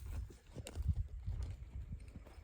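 Horse's hooves clip-clop in a steady rhythm as it circles on a lunge line, moderately close, with a low rumble of movement and no talk over it.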